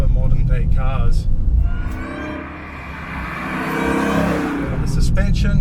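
Supercharged 6.2-litre V8 of a Dodge Charger SRT Hellcat sedan revving, a loud deep rumble that swells and holds steady for several seconds, with brief talk at the start and end.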